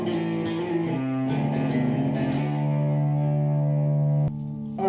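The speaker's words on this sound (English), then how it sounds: "this is like a little bit of reverb, some delay, and this is like the cleanish on a solid state amp" Clean electric guitar notes through a solid-state amp ring out with reverb and echoing delay, sustained tones layering and fading, ending with a short muted strum.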